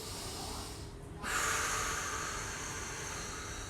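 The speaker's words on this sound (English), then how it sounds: "So we're going to take a deep breath." A person takes a deep breath during a relaxation hip stretch, a soft airy inhale followed by a longer, louder hissing exhale, close and alone.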